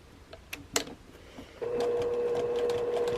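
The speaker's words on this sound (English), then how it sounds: "I'm top stitching that inside edge down, enclosing my raw edge picture." A domestic sewing machine top stitching down the inside edge of a quilt block, enclosing a raw edge: a steady, close, continuous motor whir with a sustained hum that starts after a few scattered clicks and handling taps.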